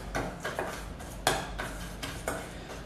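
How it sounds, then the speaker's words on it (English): A spoon scrapes and taps rhythmically against a bowl while stirring biscuit mixture, with about seven close, soft strokes in quick succession. "Give that a little bit of a stir."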